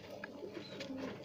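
A domestic pigeon, a red bird kept by a fancier, coos softly in a quiet loft, low murmuring calls close by with faint background noise.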